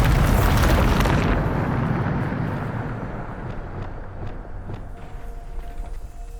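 The Bombarda spell explodes in Hogwarts Legacy, a loud booming blast that bursts at once and then rumbles and decays over several seconds into lower debris noise and faint clatter.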